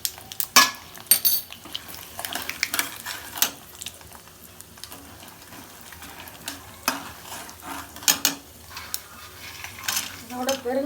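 Chana dal and cashews frying in a pan for lemon rice, with a light sizzle under repeated clinks and scrapes of a metal spoon stirring against the pan, close by.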